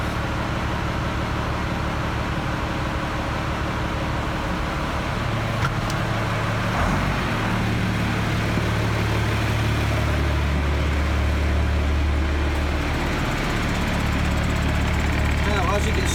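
Fendt Favorit 514C tractor engine running steadily with the PTO shaft turning, a continuous low rumble throughout with a brief knock partway through and faint talk in the background.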